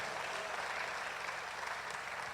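A worship service congregation claps in a dense, continuous burst of applause that stays loud and even throughout, with no voices heard over it.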